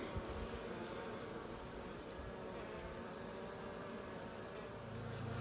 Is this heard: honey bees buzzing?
yes